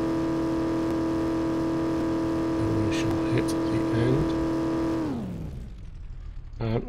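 Ford Mustang Cobra in Farming Simulator 17 drag racing, a loud sustained engine drone holding steady pitch, briefly rising then dropping sharply as it winds down near the end.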